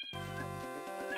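A cartoonish cat meows once, clear and sustained, in the video game Yoshi's Island, standing alone with nothing behind it.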